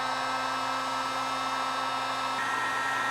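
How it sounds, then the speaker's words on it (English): A heat gun blows steadily on solder-seal connectors joining wires during an LED gauge light upgrade on a Honda CT110, a constant close airflow hum with a slight shift in tone near the end. "now I'm just gonna heat these up"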